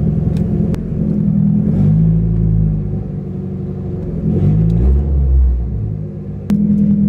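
A Nissan S13 with a straight-piped exhaust rumbles loud and close while driving, with its deep engine tone rising and falling as it revs and shifts.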